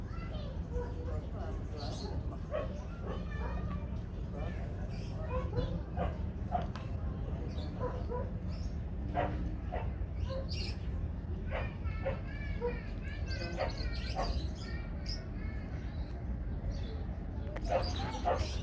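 A dog barks intermittently at an outdoor tilapia fishing spot, short scattered yaps under ongoing conversation and background noise.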